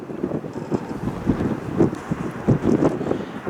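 Gusty wind buffeting the microphone at Washington Dulles airport, a low, fairly faint rumbling blustery noise with irregular puffs throughout, no other clear sounds.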